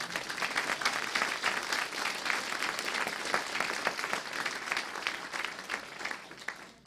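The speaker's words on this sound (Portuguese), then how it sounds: "Aplauda o Senhor." A church congregation bursts into sustained applause during a sermon, with thick, lively clapping from many hands that carries on evenly throughout and then tapers slightly at the end.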